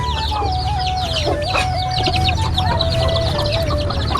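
A flock of layer chickens on a rooftop farm keeps up continuous, close, overlapping clucking and chattering calls, with no voices.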